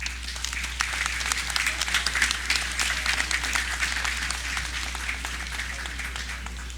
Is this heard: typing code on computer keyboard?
no